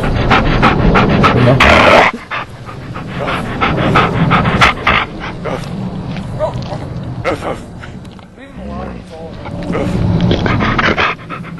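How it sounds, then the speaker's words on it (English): A dog pants in rapid, breathy bursts close by, a snowy outdoor setting around it, with people talking over and between the breaths and occasional footsteps. "I hate that dog."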